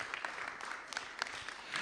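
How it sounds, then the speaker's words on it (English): An audience at a COP28 industrial decarbonisation forum applauds a speaker, a steady spread of clapping held at moderate level for a couple of seconds with no voices over it. "Round of applause for Alex Millward"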